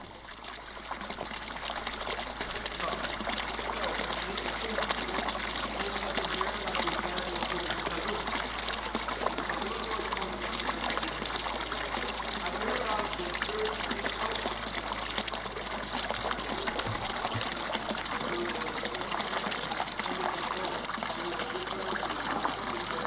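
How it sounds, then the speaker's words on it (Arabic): Water trickles and pours steadily as hands and forearms are washed for ablution, a continuous close splashing stream that lasts throughout with no talking. "وعاود غسل يديه 3 المرات، ولكن هاد المرة حتى المرافقو."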